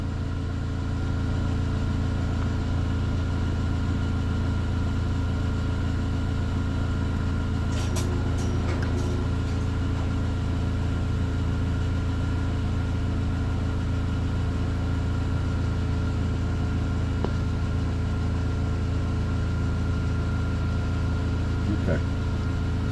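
A supercharged 1.8-litre 2004 Mercedes C230 (W203) idling: a steady, even low engine hum runs throughout, moderately loud and constant, with a few faint clicks and no clear talk.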